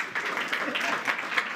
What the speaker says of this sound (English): You can applaud them if you want.